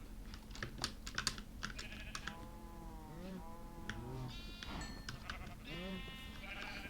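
Sheep in Minecraft bleat several times in wavering, mid-distance calls, mixed with the quick clatter of computer keyboard typing throughout.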